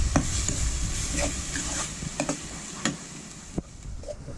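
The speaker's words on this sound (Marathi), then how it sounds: "कांदो भाजून घेता पहिल्यांदा कांदो लसूण आणि कढीपत्तो टाकलेला" Onion, garlic and curry leaves frying over a wood-fired clay stove, a steady close sizzle with scattered ticks and scraping stirs of a spoon against the pan.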